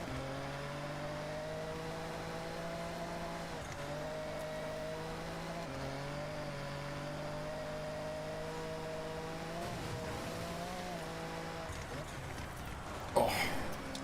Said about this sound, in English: The notoriously off-roadable car, the BMW i8.